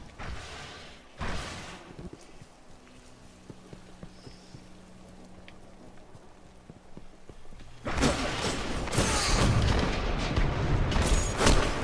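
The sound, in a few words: Viking Funeral heavy weapon firing in Destiny video game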